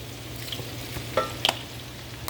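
A tablespoon of garlic sautéing in a pot, a soft continuous sizzle with a couple of brief clinks and stirring scrapes.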